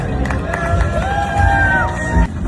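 A comedy show audience cheers and whoops on opening night, a loud crowd roar with rising shouts that swells and then drops off near the end.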